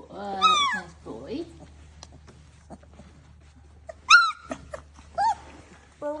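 Newborn German Shorthaired Pointer puppies in New Zealand give high, thin whimpers and yips in a few separate bursts, close by, with quiet gaps and soft clicks between them.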